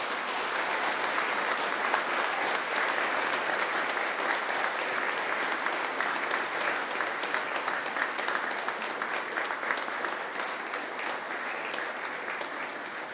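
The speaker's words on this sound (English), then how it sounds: "give them a mighty round of applause" Sustained applause from a large crowd at a university graduation ceremony, steady and fairly loud, filling the whole stretch without any speech.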